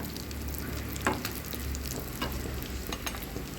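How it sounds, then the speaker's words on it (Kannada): Cashew nuts fry in a pan with a gentle steady sizzle, punctuated by a few light scrapes of a stirring spoon, close and fairly quiet with no voices. "ಗೋಡಂಬಿ ಮತ್ತು ಇದನ್ನು ಹಾಕ್ತಾಯಿದ್ದೀನಿ ನಾನು. ಸ್ವಲ್ಪ ಫ್ರೈ ಆಗಲಿ, ಚೆನ್ನಾಗಿ ಫ್ರೈ ಆಗಲಿ."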